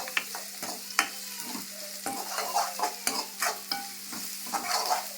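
Onions and curry leaves sautéing in a pan, a close crackling sizzle broken by quick, uneven spatula stirs and scrapes, with no voices.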